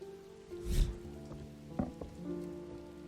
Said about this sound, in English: Rain, again! Soaked to the bone before I'm halfway through my rounds.